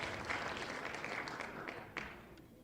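An audience applauds a prize winner at an education event, with a steady patter of many hands clapping at moderate volume that fades slightly toward the end.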